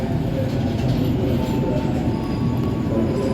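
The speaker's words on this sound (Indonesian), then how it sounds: "ternyata yang diberangkatkan terlebih dahulu adalah kereta api Argo Cirebon ya" Argo Cirebon passenger train rumbles steadily along the rails, a dense continuous roar with wheel noise heard from nearby.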